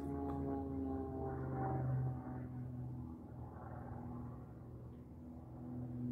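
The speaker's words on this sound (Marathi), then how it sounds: "सापडायला तयार नाही आहे मला, ते फार फास्ट जात आहे. ते कसरती करत आहे विमान" An airplane performs fast aerobatics overhead, heard as a faint steady engine rumble and drone that swells and eases slightly across the sky.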